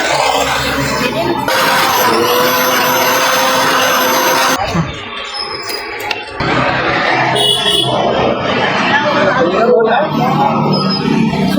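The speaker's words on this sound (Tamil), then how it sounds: "இது கொஞ்சம் மிக்சியில் போட்டு அரைச்சி கொடுக்க முடியுமா?" A mixer grinder whirs loudly as it blends tender coconut and ice apple, a harsh steady motor whine that briefly stops and restarts, with people talking nearby.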